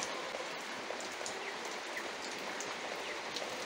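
Warm rain falling steadily in a countryside village yard, a dense, even hiss of drops pattering on surfaces at close range, alone and unbroken with no talking.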